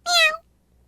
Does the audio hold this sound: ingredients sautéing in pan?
no